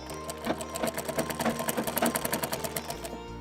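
A sewing machine stitches a Sabyasachi-style blouse with a fast, steady run of even mechanical clatter. The sound carries close and alone for a few seconds, then stops near the end.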